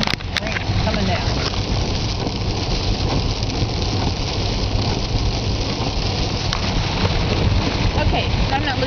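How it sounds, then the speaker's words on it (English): Heavy rain falls outdoors, a dense continuous hiss that holds steady throughout, with a person talking over it. "Boy, is it ever raining. Rain coming down."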